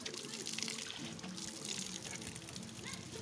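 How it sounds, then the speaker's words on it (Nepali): Cold spring water gushes out of a pipe outdoors, a continuous faint splashing and trickling with no pauses and no clear talk. "हेर्नु चाहिँ पानी यसरी आउँछ"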